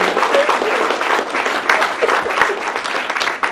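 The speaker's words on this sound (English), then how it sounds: "if I could have a round of applause to everyone that took part here this morning" Dense, lively applause from an audience at a charity golf event at Shirley Park Golf Club, a continuous wash of many hands clapping at close range for a few seconds.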